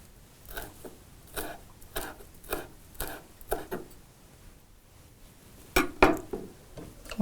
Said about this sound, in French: Je vais hacher mon persil